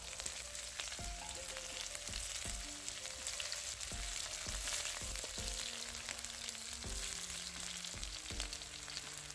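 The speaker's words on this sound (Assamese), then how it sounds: "এতিয়া কেৰাহী গৰম হ'লেই তেল দিলোঁ মই। এইফালে তেল গৰম হৈছে আৰু এইফালে পিঁয়াজ দিলোঁ।" Onions fry in hot oil in a wok, a soft, steady sizzle heard faintly throughout, with a quiet, rhythmic tonal sound running underneath and no speech.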